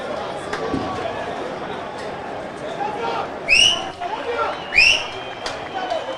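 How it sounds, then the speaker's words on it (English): Short mock whistles blown from the Rovers bench at a live NNL football match between VFC and Rovers FC, two bright rising blasts about a second apart over steady crowd murmur and distant stadium noise. "Mock whistles going around from the bench of the Rovers side."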